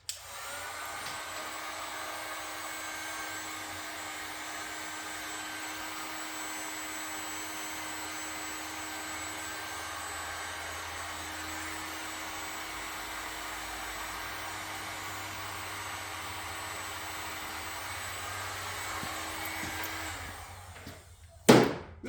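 A heat gun runs steadily at close range for about twenty seconds to speed-dry motorcycle paint in a shop where a Shovelhead chopper is being wired, giving a constant whirring blower hum before a brief clunk as it shuts off.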